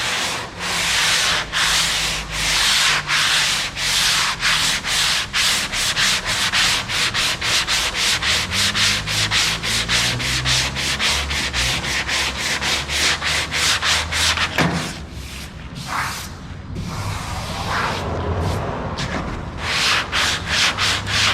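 Bondo body filler being hand-sanded and feathered out on a Dart's bodywork: steady, close, rhythmic back-and-forth scraping strokes that run continuously, with a brief pause and rougher, uneven strokes near the end, and no talking.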